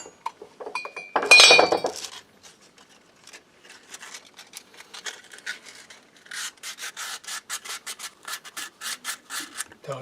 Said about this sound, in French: je vais poncer un peu lui